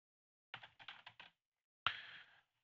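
A few quick keystrokes tap on a computer keyboard as a username and password are typed, followed by a pause and one louder key press, quiet and nearby in an otherwise silent room.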